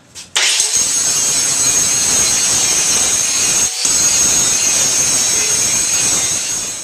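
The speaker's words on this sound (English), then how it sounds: "I'm going to grind it real quickly." An angle grinder bites into a steel test plate with a loud, continuous high-pitched whine and gritty rasp, starting abruptly, broken by one short pause, then running on close and steady.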